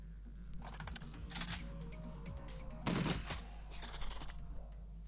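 Gunfire in the video game Shadowrun Dragonfall, sounding as quick bursts of soft, clicky shots over a steady low hum, with one louder, denser burst midway.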